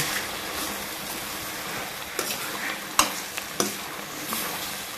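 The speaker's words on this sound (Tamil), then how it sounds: "அடி பிடிச்சிடாம நல்லா வதக்குங்க" Eggplant sautéing in a pan for a dry fish curry, a steady low sizzle with occasional scraping stirs and spoon taps against the pan, no voices over it.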